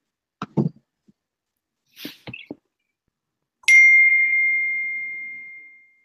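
A single bell strikes once after a few faint taps and knocks, then rings out clear and bright, its tone slowly fading over about two seconds in a quiet room.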